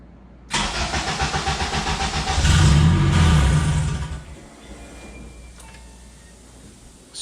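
A Porsche 996 engine with a modified K996 throttle body cranks and catches loudly, revs roughly for a few seconds, then dies abruptly, leaving a faint quiet hum.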